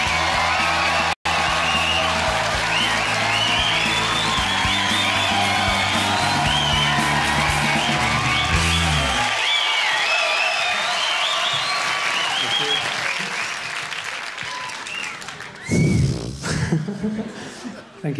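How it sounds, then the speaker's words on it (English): A live comedy crowd welcomes a comedian in 1996 with loud sustained applause, cheers and whistles over walk-on music. The music drops out midway, the clapping thins, and laughter and a voice follow near the end. "Lovely round of applause."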